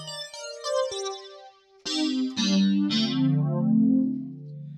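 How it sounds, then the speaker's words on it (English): Korg Multipoly synth run through an amp simulator and flanger, giving a distorted, swirling guitar-pedalboard tone; a few plucked notes ring out, then loud sustained chords swell and sweep, with no talking. "turn the amp sim on, and then I've got a flanger on here. All right, now we're starting to get that kind of guitar pedal board sound"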